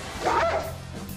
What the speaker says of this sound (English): I thought you said your dog did not bite